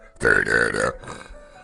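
A single long, loud burp of about three-quarters of a second, deep and gurgling with a rough throaty buzz, followed by quieter breathy noise.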